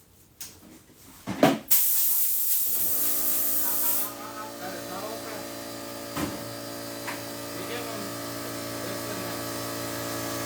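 Compressed air blasts in a workshop during assembly, a loud hiss that starts abruptly and runs for a couple of seconds before dropping to a steady mechanical hum with faint clicks.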